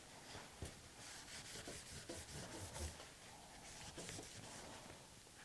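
Milk paint being rubbed by hand off a wooden surface, leaving some of the black cherry color showing. A steady, close scrubbing friction with repeated short strokes and no voices.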